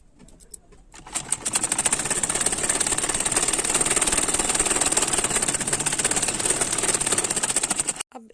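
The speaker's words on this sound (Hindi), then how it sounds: "अब हम इसमें सिलाई लगा लेंगे।" Stitching a Katori blouse, a sewing machine starts after a short quiet moment and whirs in one continuous, fast, even run for about seven seconds before stopping abruptly.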